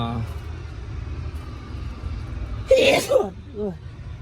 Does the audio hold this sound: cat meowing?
no